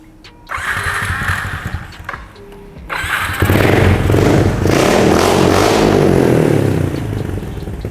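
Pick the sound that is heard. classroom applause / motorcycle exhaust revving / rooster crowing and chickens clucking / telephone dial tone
motorcycle exhaust revving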